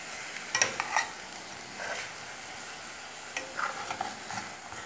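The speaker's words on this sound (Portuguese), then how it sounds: "Vou dar uma refogadinha com a cebola." Onion sautéing in a pan for a meatball sauce, with a soft steady sizzle and a few spoon stirs and scrapes against the pan, heard close up.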